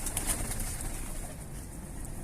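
Pigeons cooing softly in the background, a steady low murmur of birds with faint rustling, no talking.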